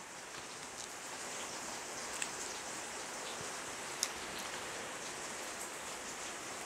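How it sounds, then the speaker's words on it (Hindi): Heavy rain falls outside in a steady, dense hiss with no break, a constant wash of drops and an occasional louder tap, heard alone with no talking. "जो आवाज़ें बाहर से आ रही हैं वो बारिश की आवाज़ें हैं।"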